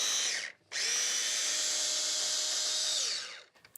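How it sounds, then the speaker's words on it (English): A food processor whirs loudly as it finely chops chicken and mushrooms into a mince-like texture, running for a short pulse, pausing briefly, then spinning steadily for about three seconds before winding down with a few clicks. "we're going to finely chop this so it really resembles mince"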